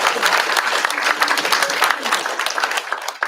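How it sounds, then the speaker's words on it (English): At a school district governing board meeting, the room gives loud, close applause for the track and cross country coach, a thick continuous patter of many clapping hands with some crowd noise mixed in. "give him a round of applause"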